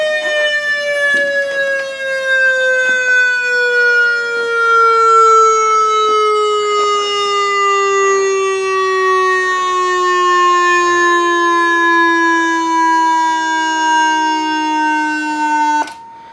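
A Whelen siren speaker driver sounds a loud, steady electronic tone that sits at its old in-service pitch and slowly drifts slightly lower across about sixteen seconds, close and continuous, then cuts off abruptly at the end.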